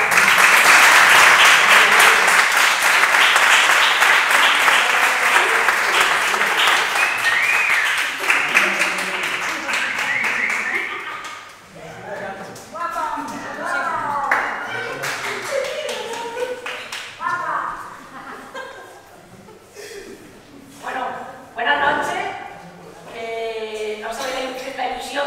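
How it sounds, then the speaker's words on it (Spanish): An audience applauds the marketing and publicity managers of a theatre company at a web launch presentation, dense clapping for several seconds that thins out as voices and talking take over. "Un aplauso."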